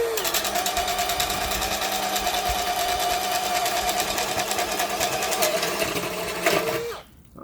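Cordless drill grinding steadily in low gear with a 1-inch bit under load, a loud continuous motor whine with gear rattle that holds for about seven seconds before cutting off abruptly.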